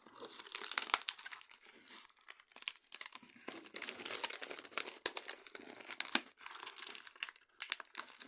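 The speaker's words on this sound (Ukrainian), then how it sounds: "Відкриваємо першу посилку." A parcel from a delivery service being opened by hand, with irregular bursts of crinkling plastic packaging and tearing close by, in quick uneven handfuls with short pauses between them.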